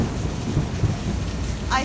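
Steady downpour of rain with low rumbling thunder in the Hard Rain campaign of the Left 4 Dead 2 video game, a continuous broadband wash that stays even throughout.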